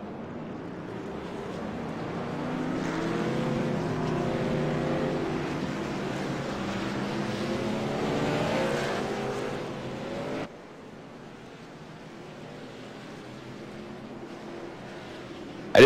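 Race cars run pace laps on a track, making a steady engine drone with shifting tones as they pass. The sound drops sharply to a quieter hum near the end.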